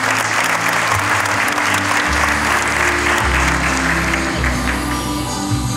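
A loud, continuous wash of applause for newly licensed students at a school graduation ceremony, dense and sustained from a big crowd, with a low tonal hum of music or sound system underneath.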